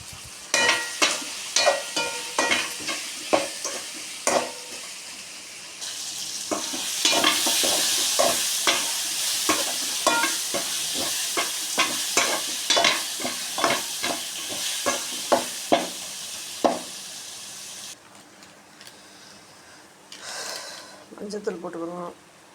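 Tomatoes are sautéed and stirred in a pan with softened onions for a yam gravy, giving rhythmic spoon scrapes over a steady sizzling hiss, with a voice speaking near the end.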